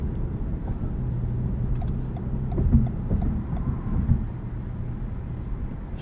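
A 2019 Toyota Avalon Hybrid XSE cornering gives a steady low engine and road rumble inside the cabin, with a couple of slightly louder swells midway and no talking.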